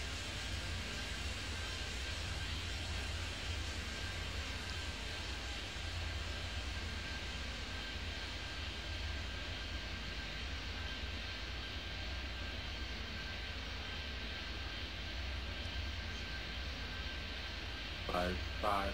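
An airliner's jet engines in the airport game Airport Madness 3D spool into a steady, broad roar of takeoff power that holds level and even throughout, with a faint whine riding on top and a brief blip near the end.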